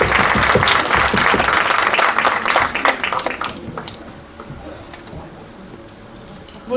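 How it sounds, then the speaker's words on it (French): Theatre audience gives loud, dense applause after a French stage presentation, sustained for a few seconds then thinning into scattered claps and fading to a quieter room murmur. "C'est vous qu'il faut applaudir."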